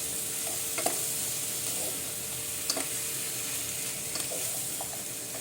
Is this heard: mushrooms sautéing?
yes